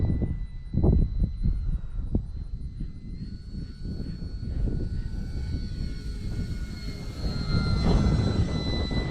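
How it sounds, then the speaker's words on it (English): A modded FT Freedom Fox V2 RC plane's electric motor whines in sustained, shifting tones as it flies past on a very windy day, its pitch bending and swelling again near the end over gusty rumble. "Bring the plane right at me."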